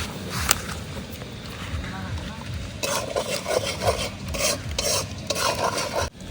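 Spice masala with Kashmiri chili powder, salt, cashews and melon seeds is stirred and sautéed in oil in a pan, with scraping strokes over a steady sizzle while someone talks.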